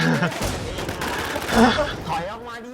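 Rapid gunfire in the WarZ AfterlifeZ video game, dense overlapping shots rattling continuously under a talking voice.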